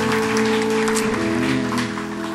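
A congregation at a Sunday church service claps together in a dense, steady patter, blended with sustained worship music playing underneath throughout.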